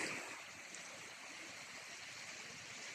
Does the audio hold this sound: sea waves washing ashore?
yes